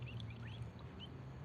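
Ducks quacking near a backyard pool, a few short faint calls scattered over a steady low background hum.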